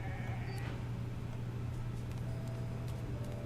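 A sheep's bleat in the video game Divinity: Original Sin 2 sounds briefly near the start over a constant low electronic hum and background game noise.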